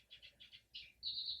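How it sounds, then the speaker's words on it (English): Birds chirp outside in the early morning, a quick series of small tweets followed by a sustained high trill, faint and distant against a quiet room. "I'm sure you can hear the birds chirping outside."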